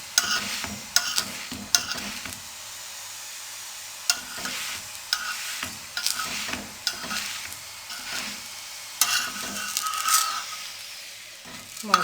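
Chickpea filling for parathas cooked gently in a pan, with steady soft sizzling and repeated scraping, tapping strokes of a spatula through the mixture, close and unvoiced.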